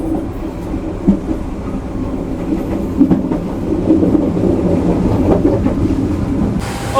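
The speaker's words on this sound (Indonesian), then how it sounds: "sekarang kereta api Kahuripan diberangkatkan dari stasiun Walikukun dan stasiun Sragen" Kahuripan passenger train running on rails in Java, heard from inside a carriage as a steady rumble with intermittent clickety-clack wheel knocks and occasional louder jolts.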